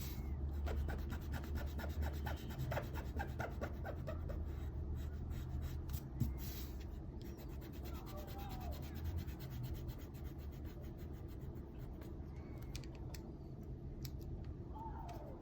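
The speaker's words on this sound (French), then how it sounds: "Pour gommer, j'utilise une gomme de précision." A precision eraser rubs pencil off paper in quick, close scratchy strokes that repeat rhythmically, fading into quieter intermittent rubbing.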